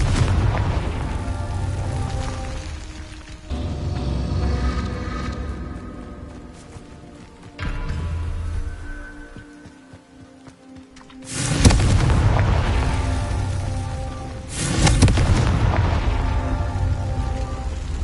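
Confringo fire-blast spells from Hogwarts Legacy burst in several heavy booming explosions spaced a few seconds apart, each followed by crackling debris and rumble, with quieter gaps between blasts.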